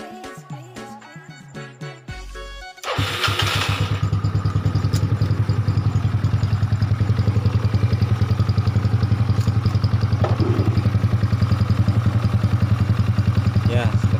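A Yamaha Nouvo Z motorcycle with a modified engine or exhaust starts after some clatter, then settles into a steady, rough, loud idle with a rapid pulsing beat close by.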